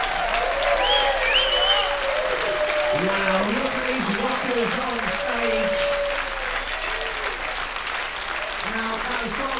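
A ukulele concert crowd applauds and cheers loudly, a continuous roar of clapping with shouts and whoops, while an announcer talks over it.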